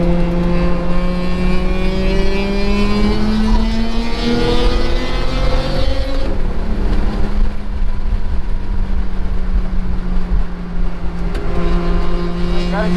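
Corvette lapping a race track on a track day, its engine droning loud and steady from inside the car, pitch climbing and dropping through gear changes, with road and wind roar underneath.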